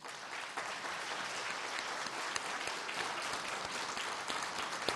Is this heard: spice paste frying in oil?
no